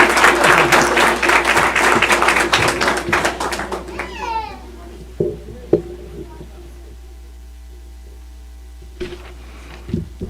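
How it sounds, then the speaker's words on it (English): An audience at a school board of education meeting bursts into loud, dense applause that fades out after about four seconds, leaving a quiet room with a few soft bumps and brief voices. "so we could give you a round of applause"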